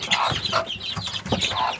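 A broody bantam hen clucks close by among her chicks, giving short, rapid, repeated clucks with bright chirping layered over them.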